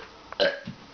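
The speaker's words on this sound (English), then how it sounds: "Ew, those are dirty burps" A single short, throaty burp from a boy, close and fairly loud, rising abruptly and fading within half a second.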